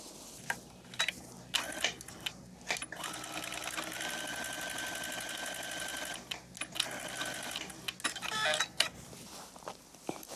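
A domestic sewing machine stitches the short edges of a dress sleeve facing in a steady whirring run of several seconds, framed by quieter clicks and fabric handling before and after.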